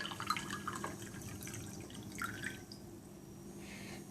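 Water from a tabletop fountain draining back into a jar, a quick run of close drips and trickles that thins out into a faint, quieter patter.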